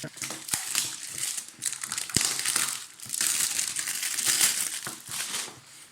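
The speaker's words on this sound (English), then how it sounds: "it's all cellophane wrapped. Just removing that." Crinkly cellophane wrap is peeled and crumpled off a cheap plastic kit box, giving close, busy crackling and rustling in uneven bursts with a few sharper snaps.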